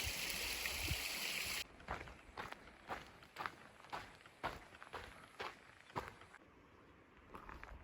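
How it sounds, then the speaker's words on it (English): A creek beside a hiking trail on the Pacific Crest Trail rushes steadily, with loud broadband water noise at the start. Close crunching footsteps then follow in an uneven rhythm over the flowing water. "I'm stopped here at this creek"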